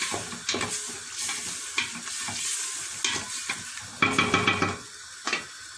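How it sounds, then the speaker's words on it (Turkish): Bulgur stirred with tomato paste in a pan, a close series of rhythmic scraping strokes over a soft, steady sizzle. "Şöyle karıştırıyorum salçasıyla birlikte."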